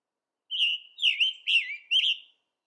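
A small bird sings a short clear phrase of four bright whistled notes, the first steady and the rest warbling and slurred, close and distinct against silence.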